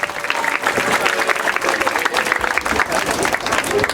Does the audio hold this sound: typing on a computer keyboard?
no